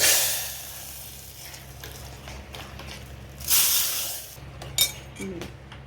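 Fried tempering poured into Telugu lentil soup (pappucharu) in a pot gives a sharp sizzle that quickly settles into a soft, steady crackle, with a few brief clinks and stirring noises close by.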